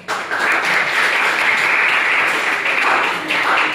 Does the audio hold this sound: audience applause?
yes